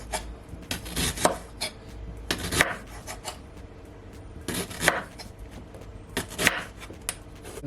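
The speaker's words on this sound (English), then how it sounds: "So now I'm just gonna cut these ginger, and I'm just gonna cut it like so." A knife chops fresh ginger on a board in uneven bursts of crisp, close taps and thuds, with short pauses between the clusters of cuts.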